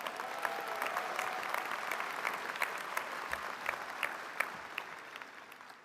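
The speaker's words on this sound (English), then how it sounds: "you should clap for yourselves" Dense, sustained applause from a crowd of MBA graduates at the 2025 Robert H. Smith School commencement ceremony, a steady wash of many hands that gently fades toward the end.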